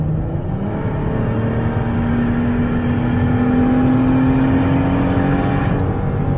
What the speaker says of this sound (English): I'm going to give it some gas so you can hear the engine run, feel the transmission shift.